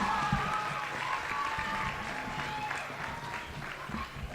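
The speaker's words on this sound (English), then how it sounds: "give yourselves a huge round of applause for coming out tonight" Audience applause at a benefit concert for Puerto Rico and the Caribbean, a steady wash of clapping with crowd murmur and a faint tonal hum underneath, heard from a moderate distance.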